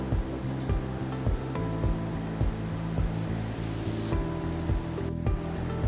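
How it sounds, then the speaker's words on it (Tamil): A covered pot of water comes to a boil for chicken biryani, giving a steady, rushing bubble. A faint rhythmic mechanical hum pulses underneath throughout. "இப்போ பாருங்கள் நல்லா நமக்கு வந்து கொதி வந்துருச்சு."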